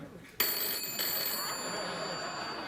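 A telephone rings in a television talk-show studio, starting abruptly and continuing as a bright, steady electronic tone that carries loudly to the end with little else around it.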